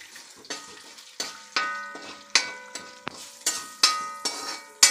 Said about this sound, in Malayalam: നമ്മൾ ഉലുവ വറുത്ത് കോരണം